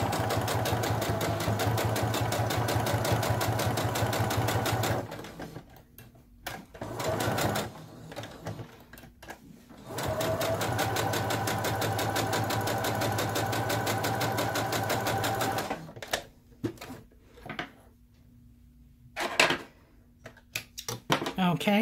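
A sewing machine stitches both sides of a fabric tab for a coin purse, running in two long steady whirring bursts with short stop-start runs between, while a person talks over the quieter moments.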